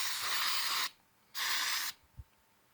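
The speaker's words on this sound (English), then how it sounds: "We're going to spray this shit down so our goddamn eggs don't stick," Cooking spray hisses from an aerosol can onto a pan set on a kerosene heater for frying eggs, in two close, steady bursts of about a second each, separated by a short pause, with a small knock after the second.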